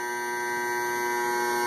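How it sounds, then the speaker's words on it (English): A dipping tank timer buzzer goes off in a shop, a steady, loud electric buzz with a constant pitch that holds for the whole moment without any talk. "that buzzer goes off, and you know, hey, it's time to go"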